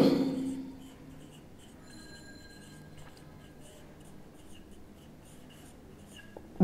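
A hand writes an accounting entry during a lesson, giving faint, steady scratching strokes close by over a quiet room with low hum.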